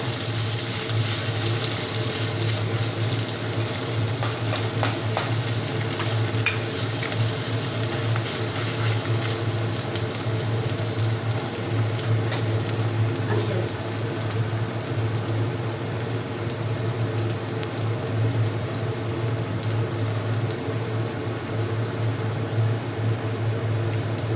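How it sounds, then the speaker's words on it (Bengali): Chopped onions fry in oil in a cooking pan, giving a steady, close, continuous sizzling hiss with faint crackles and no pause. "পেঁয়াজটা একটু তেলে ভাজা করে নিবে যাতে পেঁয়াজের কাঁচা গন্ধটা চলে যায়।"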